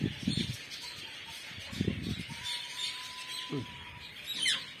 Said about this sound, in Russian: В этом вольере пара красных розел еще.